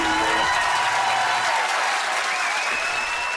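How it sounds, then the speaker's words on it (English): Loud, dense applause from a quiz show studio audience fills the whole stretch as a continuous wash of clapping hands. "Wow, we even get applause."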